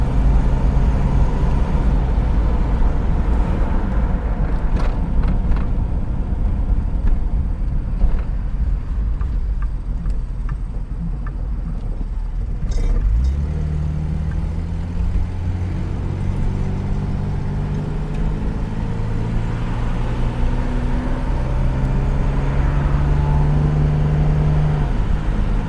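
A car with a freshly rebuilt engine, cam in run-in, drives on a test run with a steady loud engine drone and road noise, the pitch climbing smoothly through gear changes in the second half.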